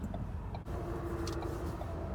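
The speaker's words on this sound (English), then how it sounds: "Idle is good. It's idling right at 750, right where it should be." A Ford Focus RS with an SCT X4 tune idles steadily around 750 rpm, a smooth, even low hum heard from nearby without rev changes or voices.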